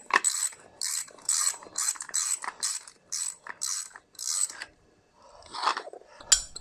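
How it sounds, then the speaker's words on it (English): A puller works a stuck cover loose on a Toyota Celica TA22, giving a quiet series of close ratcheting clicks in short bursts with brief pauses between them. "I'm having to use the puller on the cover."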